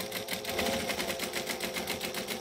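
A sewing machine runs steadily, stitching and back stitching a leather bifold wallet with dark brown thread, a fast even mechanical chatter close by.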